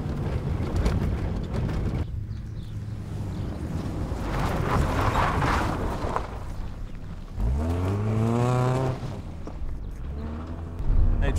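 A car engine rumbles steadily, then surges and revs upward in pitch near the end, heard from inside the vehicle with road noise.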